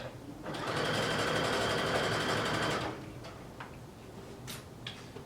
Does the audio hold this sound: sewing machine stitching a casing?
yes